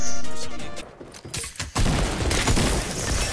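Rapid gunfire bursts and booming impacts from a first-person shooter game, loud and close, with a brief lull before dense shooting resumes.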